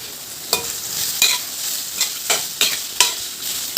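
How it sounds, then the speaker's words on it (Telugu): Onions and green chillies fry in a pan while a spoon stirs them, with a steady sizzle and about seven sharp scraping strokes at a regular rhythm, close and fairly loud, with no talk. "ఉల్లిగడ్డ పచ్చిమిరపకాయలు కూడా వేసి ఇవైతే మంచిగా ఎర్రగా అయ్యేదాకా వేగనివ్వాలి"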